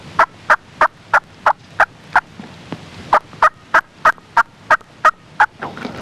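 A hunter's turkey call imitates soft tree calls: a steady run of short, evenly spaced clucking yelps, about eighteen in all, close and clear, with a short pause partway through.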